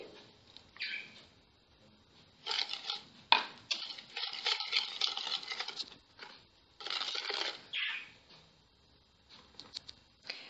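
Cake batter of eggs, vanilla sugar, caster sugar, a pinch of salt and vegetable oil being stirred in a bowl, giving bursts of wet scraping and tapping in irregular rhythm with short pauses, close and fairly quiet.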